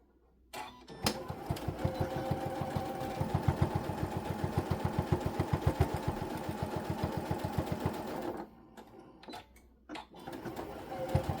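A sewing machine runs a seam on a boxy bag, a close, rapid mechanical chatter sustained for several seconds, followed by a few short start-and-stop bursts.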